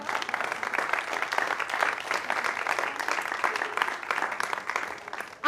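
A church congregation at a Sunday service bursts into warm applause, many hands clapping densely and steadily throughout the room, fairly loud and close, with no one speaking over it.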